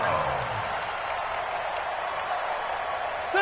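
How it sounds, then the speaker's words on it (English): Stadium crowd cheering in a PS4 American football video game, a steady broad roar of massed voices sustained at an even, moderately loud level throughout. "The crowd getting into it as we come up on a big 3rd down."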